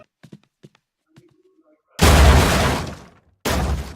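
A hammer smashes through a wall during a breaching challenge, giving two loud, crashing impacts with crumbling debris after a few faint sounds.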